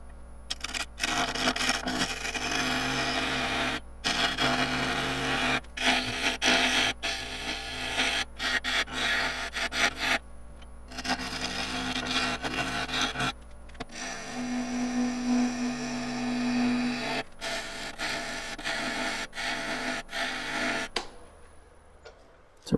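A freshly sharpened gouge cuts into a spinning wood burl on a lathe, producing a continuous loud rasping scrape with choppy interruptions over a steady motor hum that drops out partway through, with no voices.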